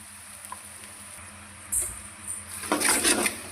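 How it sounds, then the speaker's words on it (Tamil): Onions and ginger-garlic paste sautéing in a pan for egg curry, quiet at first, then sizzling and crackling builds with stirring scrapes in bursts. "இஞ்சி பூண்டு பேஸ்ட்டு பச்சை வாசனை போகிற வரைக்கும் நம்ம பார்த்திங்கன்னா வணக்கிக்கலாம்"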